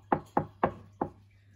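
Four firm knocks on a door at an even pace, close and distinct, with a low steady hum underneath.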